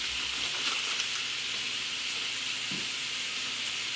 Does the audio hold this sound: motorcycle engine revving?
no